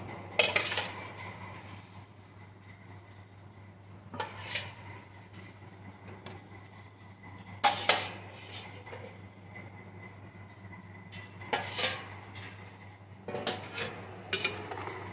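Metal utensil clinks and scrapes against a pan while hilsa fish pieces coated in salt and turmeric are mixed in for a steamed hilsa bhapa, with intermittent clattering bursts over a steady low hum.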